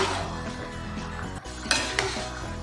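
A utensil stirs ridge gourd and potatoes in a pan, with scraping and clinks against the pan, two sharper knocks near the end, over a low steady cooking background.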